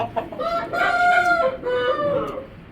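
A four-kilogram rooster crows loudly and close by, one full drawn-out call that rises and then trails off.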